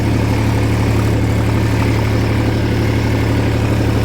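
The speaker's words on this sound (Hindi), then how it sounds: "जैसे ट्रैक्टर दूसरी बार में चल रहा है" A tractor engine running in a sugarcane field, loud and near, holding a steady low idling drone throughout with no change in pace and no talk.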